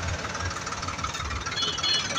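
A tractor engine runs at a mining site in Uttar Pradesh, a steady loud rumbling and knocking drone with continuous low thumping throughout, no speech over it.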